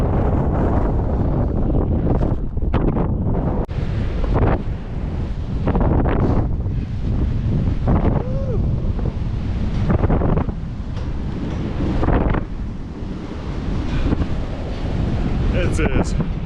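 Strong, steady wind buffets the microphone on an exposed border crossing bridge into Mexico, a loud continuous roar with gusting surges throughout and no talk heard.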